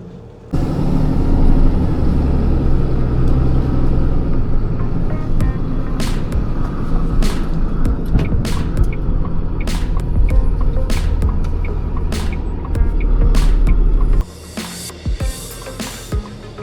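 A PODS delivery truck drives back to the warehouse, its engine and road noise holding a steady loud rumble from the cab, with scattered clicks and rattles and a shift in the noise near the end.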